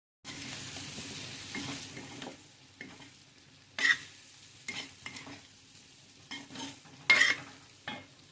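Boiled vegetables stirred into hot oil with mustard seeds and curry leaves, intermittent bursts of sizzling and spoon scrapes against the pan between quieter gaps, close and without speech.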